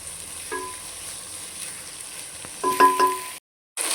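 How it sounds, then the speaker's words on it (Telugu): Lentils frying in oil for Telangana-style pappu kura make a soft, continuous sizzle with a few scraping stirs and metallic clinks, moderately close, before a brief silent gap. "పప్పు అనేది మంచి కొంచెం ఫ్రై అవ్వాలండి, ఆయిల్ అనేది ఫ్రై అవ్వాలన్నమాట."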